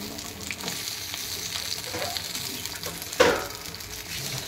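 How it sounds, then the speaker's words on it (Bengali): Pumpkin pieces fry in hot oil in a pan, making a steady, dense sizzle at close range, with one louder clatter of a utensil partway through. "এবার কুমড়ো গুলো ভেজে নেব।"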